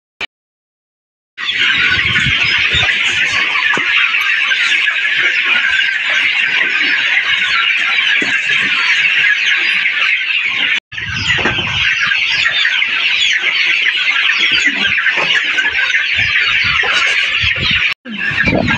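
Chickens cluck and squawk loudly and continuously at feeding time on a farm, a dense flock chorus close by, broken by a couple of brief gaps.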